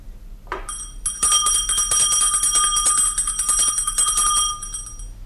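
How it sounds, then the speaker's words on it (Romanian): A small hand bell rings as a radio-theatre effect in a stage play by Molière, a sharp onset followed by rapid continuous jingling that stays loud and steady for several seconds, alone without voices. "Poate că nu sună destul de tare clopoțelul."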